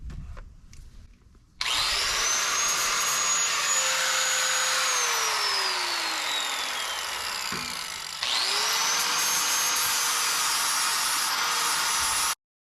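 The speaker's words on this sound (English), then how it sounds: "finishing up with the flat disc" Flap disc grinding down a patch weld on an Allis D17 tractor rim, a loud continuous whine in two long passes with a brief break between, pitch sagging as the disc bites into the steel.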